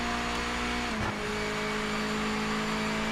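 A Mazda Miata engine in a racing video game during a practice session, a loud continuous engine drone whose pitch drops suddenly early on, like a lift or gear change, then holds steady.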